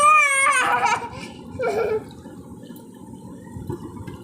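Tap water runs steadily into a basin as a low, continuous wash, while a small child cries and wails loudly over it during the first two seconds before the cry fades out.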